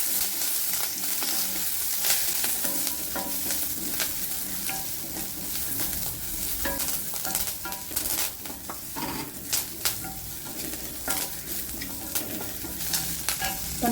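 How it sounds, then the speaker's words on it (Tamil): Pepper, fennel, cumin and onion fry in a pan for a mutton liver gravy, sizzling steadily with frequent stirring scrapes and clinks, close and continuous. "இப்போ மிளகு, சோம்பு, சீரகம் எல்லாம் சேர்த்து வறுத்து எடுத்துக்கிடுவோம்."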